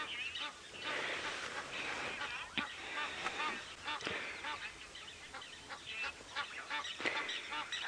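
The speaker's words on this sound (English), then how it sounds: "Egyptian geese are monogamous and they raise their babies together" A pair of Egyptian geese honk repeatedly outdoors on an African safari, harsh raspy calls coming in overlapping bursts at moderate distance over steady background ambience.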